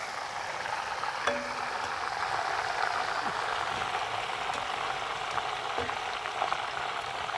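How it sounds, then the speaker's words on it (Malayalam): Ummukulsu chicken pieces frying in a pan, giving a steady, moderate sizzle and crackle with faint scrapes as pieces are turned. "അപ്പം നമുക്ക് തിരിച്ച് മറിച്ച് സൈഡ് എല്ലാം ഫുള്ളായിട്ട് നമുക്ക് ഫ്രൈ ചെയ്തെടുക്കണം"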